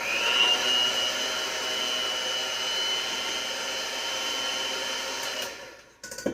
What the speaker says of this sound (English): I'm using a hand mixer, and we're gonna just smooth these out